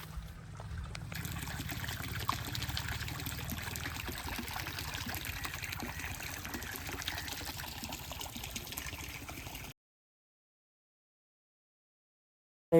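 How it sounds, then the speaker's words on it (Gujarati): Quiet, steady trickle of water flowing from a pump motor outlet, a soft continuous babble that runs unbroken before cutting off abruptly. "મોટર તો હોવાની ચાલુ છે, પાણી હાલે."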